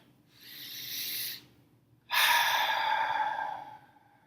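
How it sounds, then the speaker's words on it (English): A slow, deep breath drawn in and then let out in a long, audible exhale, close and soft, with a brief pause between the two, during a calming tapping exercise. "Take a deep breath."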